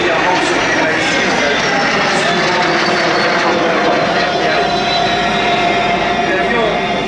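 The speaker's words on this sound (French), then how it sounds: "L'avion qui équipe la patrouille est le Fuga CM 170 Magistère" A Fouga CM 170 Magister jet of an aerobatic patrol at the Cambrai air show, producing a loud, continuous jet engine roar throughout, with someone talking over it.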